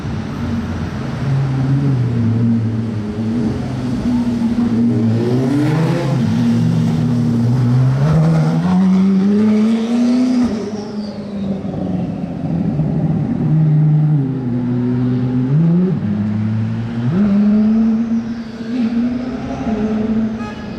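A Koenigsegg Jesko supercar revs its engine through a tunnel in Monaco, with loud, echoing rising and falling revs across many throttle blips and gear changes, close and continuous throughout.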